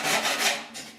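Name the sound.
hand file smoothing grinder marks on steel patch panel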